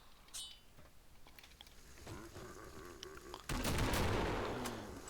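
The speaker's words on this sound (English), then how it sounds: "all it takes is two M32 shots to the head" Grenade launcher fire from an M32 in the video game Killing Floor: a few sharp shots and a heavier blast near the end, set over busy game noise.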